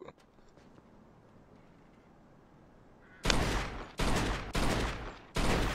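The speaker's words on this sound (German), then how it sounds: "man kann die Reifen platt schießen" Four loud, close gunshots fired from a police-issue weapon at an old car's tyres in Mafia 2, each a sharp broadband crack with a short tail, following a quiet stretch of low background ambience.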